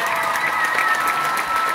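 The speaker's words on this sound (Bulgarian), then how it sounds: "Силни аплодисменти" Audience applause at a year-end school ballet performance, a steady dense wash of clapping throughout, fairly close and even, with no pauses.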